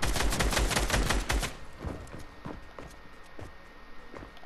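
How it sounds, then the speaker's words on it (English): Rapid automatic gunfire in the video game Fortnite crackles loudly for about a second and a half, then gives way to quieter footsteps and scattered in-game sounds. "that guy shooting"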